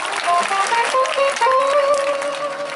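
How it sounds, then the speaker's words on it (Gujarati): Applause rises for a bereaved family at a Gujarati dakla devotional program in Mathavada village, marking Tulsi Vivah: a dense, steady crowd clapping that lasts the whole moment, with sustained musical tones ringing underneath. "એના પરિવારને જોરદાર તાળી વધાવો"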